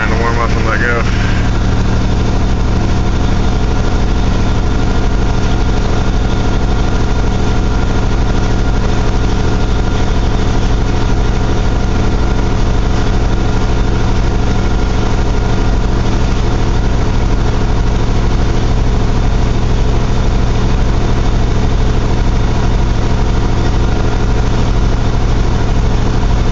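Carbureted 1982 GMC S-15 engine idles steadily on a 35-degree cold start, a loud, even low rumble running throughout the warm-up with no pauses.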